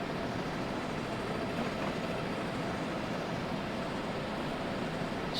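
Steady, unbroken rumble of a train running at speed in a train simulator game, a dense continuous roar that fills the whole stretch without pause or voices.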